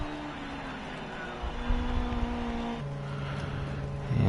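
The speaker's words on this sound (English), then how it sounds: "Can hear his engine roaring." Race car engines in a sim racing game at Hockenheimring Short, droning steadily with shifting pitch as the tones step up and down, a rising roar building at the close.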